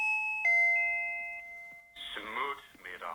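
A SwitchBot video doorbell plays a clear two-tone ding-dong chime whose notes ring out and fade. A recorded voice message follows from the same device.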